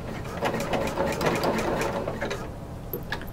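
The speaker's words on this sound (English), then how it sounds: "I'm placing it under the sewing machine. I'm using, I prefer a broken zigzag to a zigzag" Domestic sewing machine stitching a broken zigzag along a corset bone casing, a rapid rhythmic clatter of stitches running at moderate volume close by, with brief pauses near the end.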